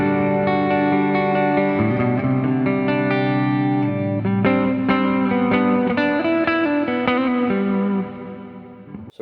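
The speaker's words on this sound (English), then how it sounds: "Headrush's 11 Reverb on the Bright Hall setting" Guitar chords ring through a Headrush 11 Reverb pedal on its Bright Hall setting with 80 ms pre-delay, sustained shimmering notes changing every second or two, then the wash decays into a long tail near the end.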